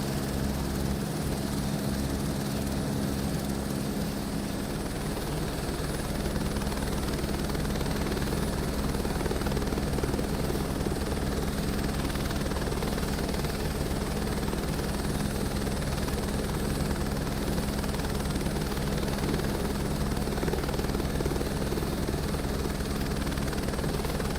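A helicopter's rotor and engine in Microsoft Flight Simulator 2024 drone steadily and loudly throughout, a dense continuous thrum over water with no voices.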